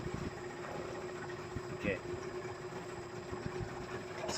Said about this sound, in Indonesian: Hanya terdengar suara mesinnya, kecil sekali.